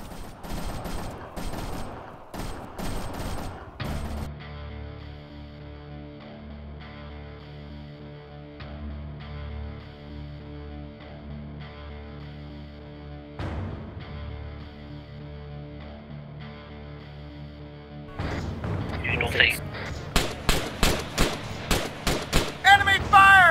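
Gunfire in the military shooter Arma 3: a rapid cluster of loud shots opens, isolated shots follow after a quieter stretch, and a fast rhythmic automatic burst closes the clip over a low droning background.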